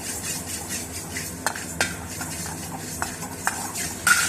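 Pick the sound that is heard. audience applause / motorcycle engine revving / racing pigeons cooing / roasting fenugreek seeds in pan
roasting fenugreek seeds in pan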